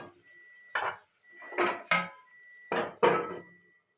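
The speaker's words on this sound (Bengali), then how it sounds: "আর একটু ঢাকা দিয়ে দেবো।" A metal lid handled on a cooking pot while potatoes and fish cook in masala: a handful of clanks and scrapes in quick bursts, close and crisp, alone with no speech.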